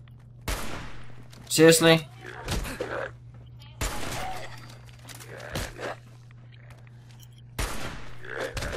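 Gunfire in the video game Fallout 4: several separate bursts of shots, with one loud cluster near the middle, spread across the clip over a steady low hum, with a voice speaking between them.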